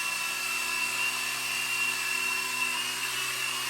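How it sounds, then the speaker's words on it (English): A homemade RC model of the Ingenuity helicopter flies, giving a steady high-pitched whine of small spinning rotors and motors, even and continuous at moderate level with no talking. "My own RC Ingenuity helicopter."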